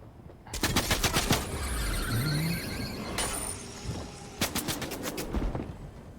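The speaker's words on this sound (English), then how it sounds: "I think I'm getting shot at by somebody." Bursts of rapid gunfire in a video game crack out in quick clusters at the start and again near the end, with a sustained rumble of other game noise between them.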